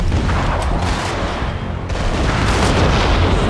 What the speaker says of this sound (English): See if I can get some grenade action going.